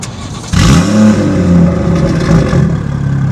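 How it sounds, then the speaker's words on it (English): A tuned BMW engine with cold start noise reduction enabled fires up after a quiet moment, a loud, close startup roar that settles into a steady, rich idle with slight clatter. "I currently have my cold start turned off, and I did that by enabling the cold start noise reduction on MHD"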